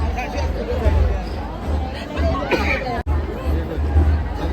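Dense crowd chatter at the Madkai jatra festival in Goa, a steady close babble of many voices with one abrupt brief dropout midway.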